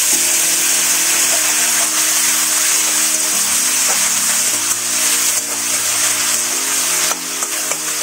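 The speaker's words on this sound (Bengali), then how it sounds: "এখন আমি শুকনো মাছ যা কাঁটা বের করে রেখেছিলাম এটাকে অল্প সময় ভাজবো।" Deboned dry fish fries briefly in a little hot oil in a kadai for shutki chutney, a loud continuous sizzling hiss over a steady low hum, with no speech.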